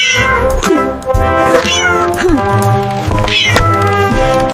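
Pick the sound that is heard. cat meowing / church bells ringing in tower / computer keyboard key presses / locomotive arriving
cat meowing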